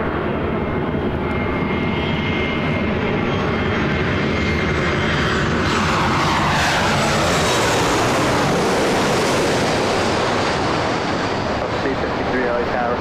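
A Southwest Airlines Boeing 737 MAX 8 jet at LAX, heading out on a flight to Austin; loud, continuous engine roar with a rising and falling whine that sweeps past, buffeted by wind noise, and no talking over it.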